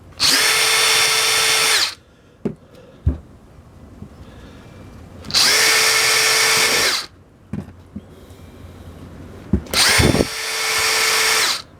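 A power drill unscrews screws from a six-valve fuel pump in three loud, steady bursts of about two seconds each, with quiet gaps holding a few sharp clicks and knocks of handling between them.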